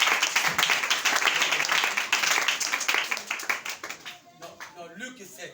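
Church congregation at a Sunday service claps rhythmically in acclaim, loud and dense at first, then thinning and fading toward the end while a voice speaks faintly.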